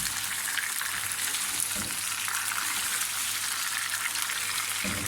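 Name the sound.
tomatoes frying in chicken karahi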